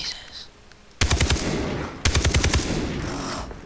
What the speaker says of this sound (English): Whoa, I hear shots.